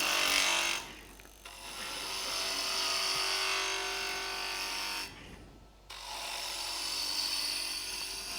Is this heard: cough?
no